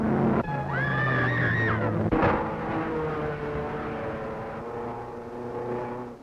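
A pre-war vintage racing car with a 400 to 500 horsepower engine howls past at close range, a loud rising whine that sweeps upward, then a sharp burst and a steady lower drone from following cars.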